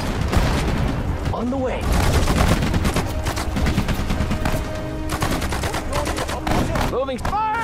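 Rapid bursts of rifle and machine-gun fire ring out in a World War II Pacific battle at Saipan in Sudden Strike 4, sustained and loud, with short unit voice acknowledgements over the shooting.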